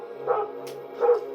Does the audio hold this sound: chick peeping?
no